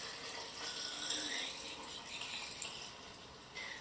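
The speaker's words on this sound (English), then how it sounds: "pour in our stabilizer" Stabilizer solution for E6 film development poured into a developing tank, a steady soft trickle of liquid lasting several seconds, quiet and close with no voices.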